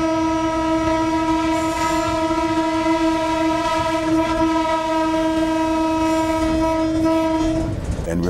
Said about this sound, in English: Passengers on the train reported hearing 3 blasts from the train whistle.